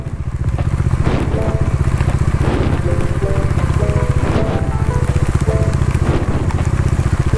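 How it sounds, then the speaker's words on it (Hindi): A motorbike skids on a muddy road on a rainy day, its engine droning loud and continuous with a steady rhythmic throb, rising in brief surges as the wheels slip. "खतरनाक स्किड कर रहा है।"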